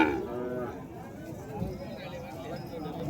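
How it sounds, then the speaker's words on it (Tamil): At an outdoor native-breed cattle market, a native cow lets out a low moo amid a busy murmur of voices, hooves and crowd noise, the call moderately near and partly masked by people talking. "பசுமாடு கொண்டு வந்திருக்காங்க, நாட்டு பசுமாடு."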